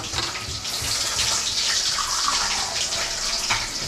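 Water pours steadily from a tap into a cooking pan while a home cook prepares a ketchup-based dish, a constant close splashing gush with no talk.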